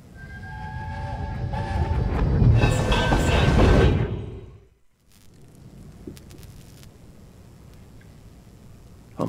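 A train in a station in the video game We Happy Few rumbles and clanks loudly with tonal horn-like hums, then fades out, leaving quiet station ambience with faint clicks.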